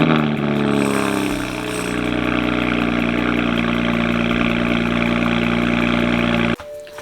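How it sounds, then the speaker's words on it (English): A BMW fires up from cold, its engine and exhaust settling quickly into a loud, steady, close-up idle that drones on evenly until it cuts off abruptly near the end, with no talking. "why don't we get a cold start of that BM? Let's hear what it sounds like."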